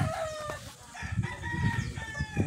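A Sweater White Leg gamecock, a long-tailed rooster, crows close and loud in a drawn-out cock-a-doodle-doo, with other distant crowing and clucking from the yard behind it.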